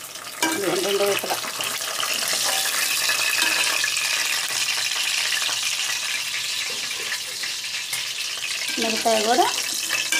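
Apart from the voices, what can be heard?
fish pieces frying in a pan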